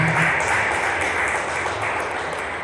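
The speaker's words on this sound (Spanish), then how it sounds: "Démosle un aplauso, si usted puede, ahí a nuestro Señor" A church congregation claps together in a dense, continuous wash of applause that fades a little toward the end.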